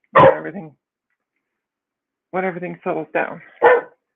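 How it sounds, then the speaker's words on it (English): A dog barks in two bursts, a single sharp bark and then after a pause a quick run of four barks, close and loud, with a voice speaking briefly in between. "Sorry about the dog barking."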